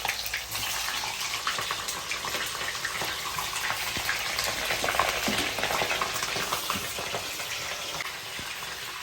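Stuffed bitter gourds fry in very hot oil, giving a loud, steady crackling sizzle that runs unbroken throughout with no voices.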